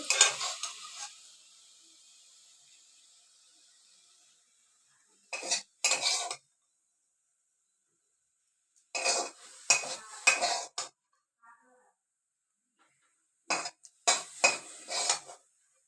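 Cooked red amaranth greens are scooped from a metal pan in short bursts of spatula scraping and clinking against the pan, separated by silent gaps, with a faint sizzle at the start.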